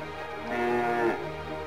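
A cow's long, drawn-out moo from the PS2 video game Charlotte's Web, rising and falling over about a second against a faint steady game background, with no speech.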